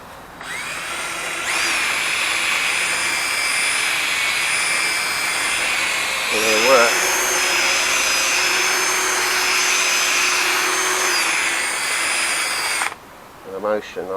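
A power drill polishing a car headlight whirs steadily at close range for most of the stretch, a continuous high motor whine that cuts off near the end, followed by brief talking.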